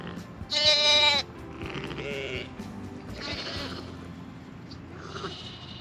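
A young Texel mule ewe lamb gives a loud, close bleat, followed by fainter bleats and farm background noise during lambing season.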